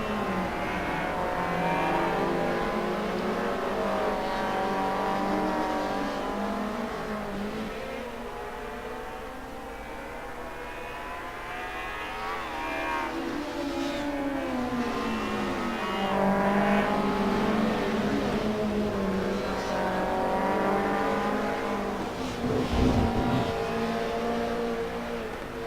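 The SAS Racing Mercedes-Benz race car roars through the Assetto Corsa sim race at Mugello, its engine droning loud and continuous with rising and falling revs through gear changes, and no voices over it.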